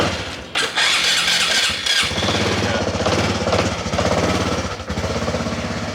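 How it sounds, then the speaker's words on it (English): A motorbike engine cranks and catches over several start attempts, loud and close, with rough sputtering bursts and a brief drop near the end before it runs again, no voices. "it's taking more and more attempts to start this bike"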